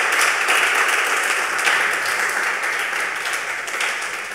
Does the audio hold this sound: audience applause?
yes